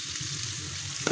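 Jackfruit and chicken pieces stirred in a hot frying pan, a brief steady sizzle of oil with a short scraping stir near the end, close and alone.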